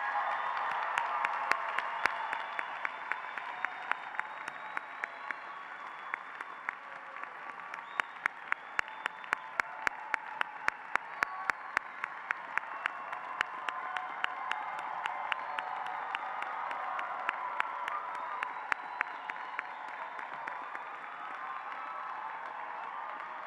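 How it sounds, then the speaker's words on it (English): An audience applauds graduates at the UIC School of Law spring 2023 commencement, a sustained wash of crowd clapping with sharp individual claps standing out, holding steady for over twenty seconds. "I think all those graduates deserve a round of applause."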